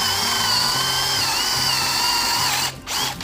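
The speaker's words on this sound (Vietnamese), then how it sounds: "Đầu tiên mình sẽ khoét thử khúc gỗ mềm nha." A Stanley FatMax SBD715D2K cordless drill, set to speed 2, bores steadily into a block of soft wood with a loud continuous whine, then dips briefly as the bit breaks through near the end.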